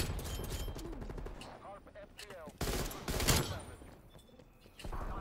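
M16 rifle fire in a Call of Duty match, with bursts of gunshots mixed with game effects and a sharp loud volley partway through, while a player talks over it.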